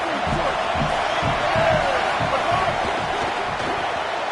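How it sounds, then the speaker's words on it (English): Stadium crowd noise roars steadily in a college football video game, a dense continuous wash of massed voices with rhythmic low thumps, loud and unbroken throughout, with no distinct speech on top. "Here comes the crowd noise, trying to help this defense out."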